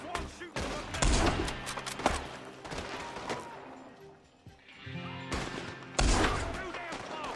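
Repeated gunshots and bursts of fire ring out in a Red Dead Redemption 2 shootout over a dynamite hijacking, loud and close, with shouting voices mixed in among the volleys.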